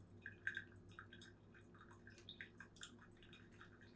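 Hot water poured over coffee grounds in a pourover brewer, heard as faint, close, scattered drips and small wet trickles over a low background hum, with no talk.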